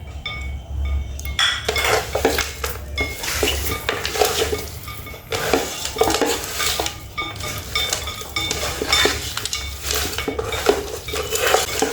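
Whole spices such as cinnamon and shahjeera are mixed in a metal pot for chicken dum biryani. Loud, continuous clattering and scraping of a ladle against the pot runs over a faint sizzle and low hum.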